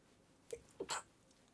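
A single quick sneeze, a short sharp burst with a small catch of breath just before it, in an otherwise quiet room.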